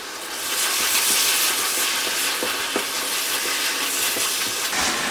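Fish cakes stir-fried in a pan with chili seed oil: a steady, bright sizzling hiss with faint scraping clicks, close and continuous, no talking.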